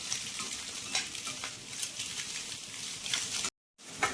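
Capsicum, carrot and onion stir-fried for street-style spicy noodles, a steady sizzle with intermittent spatula scrapes and clinks against the pan, close up with no voices, briefly dropping to silence near the end.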